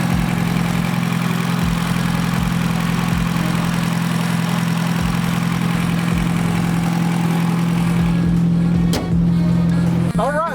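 Chevy Cruze Turbo engine idling, a steady low hum with a rough, pulsing texture that stays constant throughout, heard up close with a brief noise near the end.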